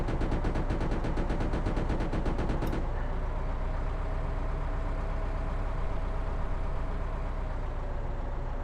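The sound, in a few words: tank machine gun firing in video game Arms Trade Tycoon Tanks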